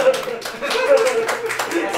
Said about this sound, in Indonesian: Boleh tepuk tangan buat yang tahu?